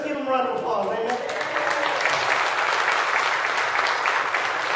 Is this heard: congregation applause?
yes